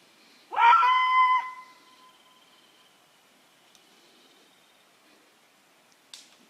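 A man imitates a Bigfoot howl: one loud, rising wail held for about a second, then fading, followed by quiet woodland background with a faint click near the end.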